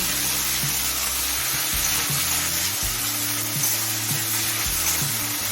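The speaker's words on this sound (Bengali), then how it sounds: "এবার টমেটো নরম হয়ে আসা পর্যন্ত কষিয়ে নেব" Tomato and onion fry in a pan for a dhaba-style egg chicken tarka, giving a steady, close sizzle throughout with no talk.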